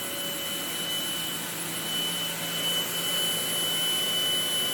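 A Kobalt 24V cordless stick vacuum runs on carpet with a steady, loud high-pitched whine and an airy suction roar that holds unchanged throughout.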